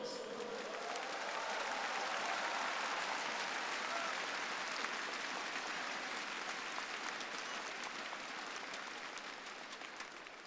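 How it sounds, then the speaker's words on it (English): Large stadium crowd applauding parade commanders at Singapore's National Day Parade, a continuous roar of clapping sustained for about ten seconds before easing off slightly at the end. "Let's give them a round of applause."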